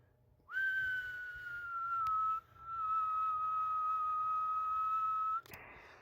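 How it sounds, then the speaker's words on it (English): A person whistles a steady, sustained tone into the microphone of a Kenwood TS-50 HF radio, two long held notes separated by a short breath, ending with a brief click and hiss. "Now I'm going to give a whistle into this microphone and watch that meter."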